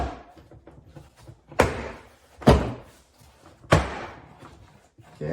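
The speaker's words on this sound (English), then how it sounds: "start pulling on it, and that's going to disengage the clips holding it on" Retaining clips pop loose as the door panel is pulled off a Lexus RX350 front door, giving three sharp, loud snaps spaced about a second apart over low handling noise.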